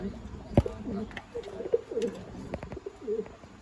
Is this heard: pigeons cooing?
yes